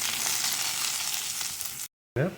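Onions sizzle steadily in a hot pan with green chillies and garlic, a loud continuous frying hiss that cuts out briefly near the end before returning.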